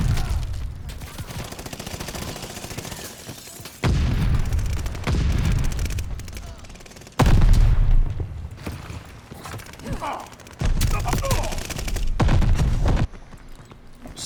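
Bursts of rapid gunfire from the Sawtooth weapon in a video game, in several loud volleys of a few seconds each, separated by brief quieter gaps.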